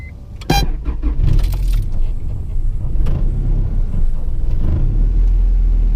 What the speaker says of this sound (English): Letting my car warm up real quick.